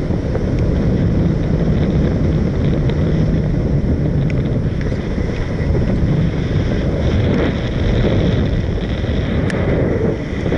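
Strong wind roars and buffets the microphone continuously, a loud, low rumbling gust with no speech.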